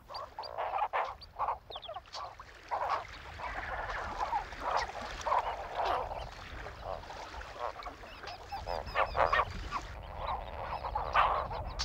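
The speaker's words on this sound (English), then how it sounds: "Huge colonies of flamingos come to the lake where they sieve the water in search of algae and crustacea" Large flock of greater and lesser flamingos at the lake in Ngorongoro, Tanzania, keeping up a dense, continuous chorus of honking, gabbling calls, fairly distant and moderately loud.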